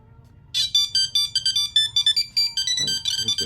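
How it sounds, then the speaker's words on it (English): A phone rung from a Skagen Falster 6 smartwatch plays a bright, repeating ringtone of quick rhythmic pulses that is clear and close, with no talk over it. "Ringing our phone, we'll go ahead and ring it again."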